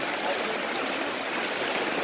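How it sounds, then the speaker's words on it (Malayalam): Heavy rain and rising floodwater flowing past flooded shops, a steady, dense rushing wash of water with no clear voices. "മഴ അതിരൂക്ഷമായിട്ട് പെയ്തുകൊണ്ടിരിക്കുകയാണ്, വെള്ളം പൊങ്ങിപ്പൊങ്ങി വരികയാണ്"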